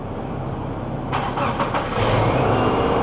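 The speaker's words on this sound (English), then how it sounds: "Go ahead and start the car." The engine of a 1998 Subaru Forester cranks and catches about a second in, then settles into a steady idle. The starter sound rises out of constant background rumble, with no voices.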